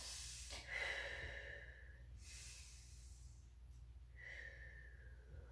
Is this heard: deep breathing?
yes